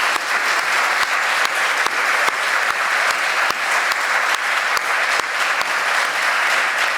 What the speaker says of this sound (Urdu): تو آئیے پھر ایڈوانس میں اسی طرح کی ایک بار پھر تالی خداوند کی۔